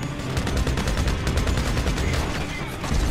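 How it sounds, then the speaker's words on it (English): Rapid gunfire rattles in a video game. The shots come in a dense, steady stream of sharp cracks that keep going through the whole moment, loud and close, with no talk. "He got that one shot off"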